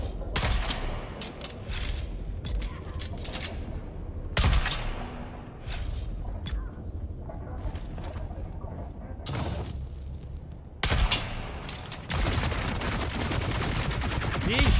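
Gunfire in the video game Dune: Awakening, with bursts of shots in several dense clusters across the clip, loud and close, separated by quieter gaps.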